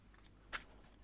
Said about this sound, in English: I'm going to shuffle a little bit to see what the cards have to say